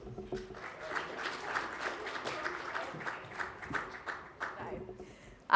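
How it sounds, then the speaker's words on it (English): A crowd applauds steadily for several seconds, a dense patter of many hands clapping at moderate distance, fading slightly toward the end. "Can we give him a very warm round of applause?"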